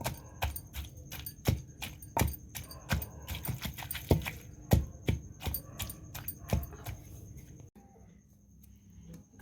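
Cucumber being chopped with a knife on a board for a chutney, quick crisp repeated cuts in an uneven rhythm, fairly faint and close, stopping near the end.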